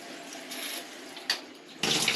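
Water from a shower tower's waterfall outlet runs in a steady broadband hiss, swelling briefly near the middle and surging louder toward the end; no voices.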